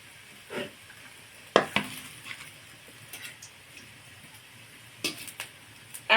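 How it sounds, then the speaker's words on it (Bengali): Small pieces of gram flour dough dropped into hot mustard oil, giving soft frying sizzle with sharp clinks and scrapes of a utensil against the pan at intervals. "এবার আমি এই বেসনের মধ্যে থেকে ঠিক এই রকম ছোট্ট ছোট করে কেটে নিয়ে তেলের মধ্যে ছাড়বো।"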